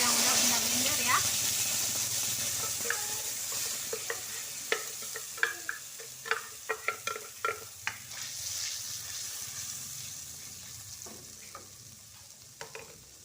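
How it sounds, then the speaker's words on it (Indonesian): Blended spice paste sautéing in hot oil, a steady close sizzle and hiss with repeated scraping stirs of a utensil against the pan, the frying gradually quieting. "Nah ini minyaknya udah panas, langsung aja Bunda tumis bumbu yang udah Bunda blender ya."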